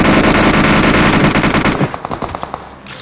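Gunfire from the mobile game Battlegrounds Mobile India: a dense, loud stream of automatic fire for nearly two seconds, then it breaks into scattered single shots that fade.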